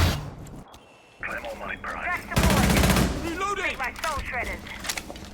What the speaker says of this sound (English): There's some gunshots rattling off in the distance.